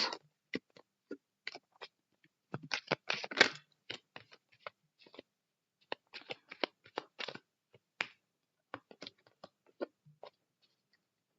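Tarot cards are shuffled up close in short, quiet bursts of riffling and flicking clicks, with silent gaps between them.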